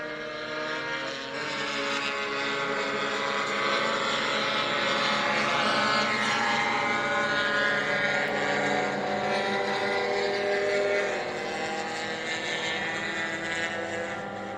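Racing scooters at the Anglesey circuit in a CST Super Scooters race roar past as a pack, their buzzing engine drone swelling and fading in a long continuous pass.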